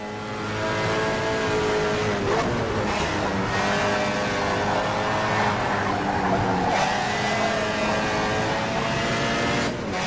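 Race car engine in the rFactor 2 sim-racing game, a continuous loud buzzing drone that rises and falls through gear changes, with brief tyre squeal, heard alone without talk.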